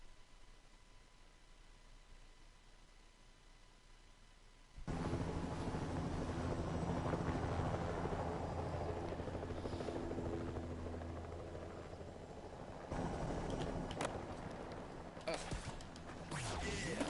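A helicopter from Tony Hawk's Pro Skater's Chopper Drop level starts up suddenly after quiet, a loud steady rotor roar that holds, dips slightly, then surges again near the end.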